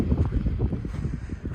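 Strong gusts on a very windy day roar and buffet the microphone in a low, uneven rumble, brief and fairly loud.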